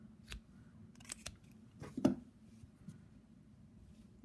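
Soft, quiet snips of scissors cutting yarn while fastening off a crochet daisy square motif, a few brief crisp cuts close by in an otherwise quiet room.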